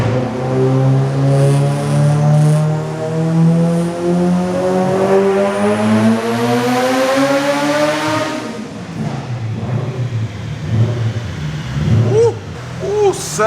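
A stock-sleeve turbo B18 Honda Civic engine on 25 psi of boost wails hard through a long dyno pull, climbing steadily to a peak before letting off into popping, crackling deceleration, loud and close.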